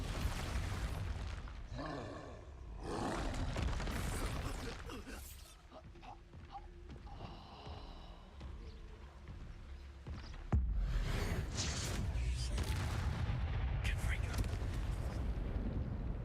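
Explosive spellcasting in the Hogwarts Legacy video game, several booming blasts and roaring bursts erupting across the clip, loud and close, with a voice shouting incantations between them.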